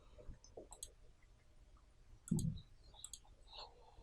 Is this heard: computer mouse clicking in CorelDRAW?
yes